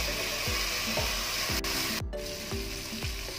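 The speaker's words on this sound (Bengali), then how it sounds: "দিয়ে এবার আমি ভালো করে মাংসটাকে কষাবো।" Meat and spices fry in a pot for biryani, with a steady sizzle underneath. Regular scraping strokes of a spoon repeat about every half second, close and continuous.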